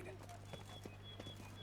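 Horse hooves clip-clopping in Witcher 3: Blood and Wine, a few faint, soft hoofbeats spaced irregularly over a steady low hum of game ambience.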